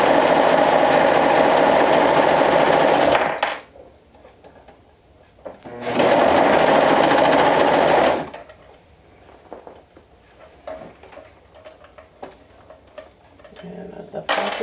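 A sewing machine stitches slowly over grommets on a romper, two loud, steady whirring runs of about three seconds each, separated by quieter handling noise and small clicks.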